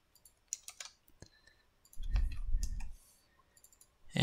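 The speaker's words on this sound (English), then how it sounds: "you can double click it." Computer mouse clicks while setting up Minecraft mods, several small sharp clicks including quick paired taps, close and clear over a quiet background with a brief low rumble in the middle.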